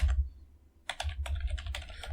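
Login name and password keys are tapped on a computer keyboard, a short close burst of quick clicky keystrokes after a brief pause, with no talking.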